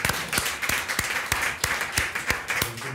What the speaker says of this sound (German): Und da klatschen wir mal